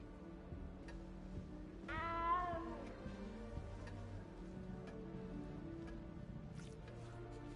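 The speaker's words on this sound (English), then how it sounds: "You don't need to be frightened, little cat." A cat meows once in the video game Hogwarts Legacy: a single clear, drawn-out meow rising then falling, heard close over a steady bed of game music and ambience.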